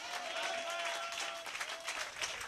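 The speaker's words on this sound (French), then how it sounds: "Ce matin, donnez une main d'acclamation au Seigneur." A church congregation claps during a worship service. The mixed clapping is fairly loud and continuous, with a sustained musical tone running beneath it.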